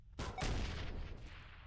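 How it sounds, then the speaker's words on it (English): A contraption detonates like a bomb in the People Playground video game, giving a sudden close boom with a crackling burst that trails off into rumbling noise, with a second smaller pop near the end. "it causes him to kinda detonate like a bomb"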